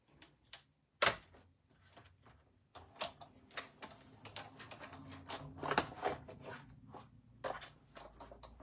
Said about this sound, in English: So let me grab my die cut machine.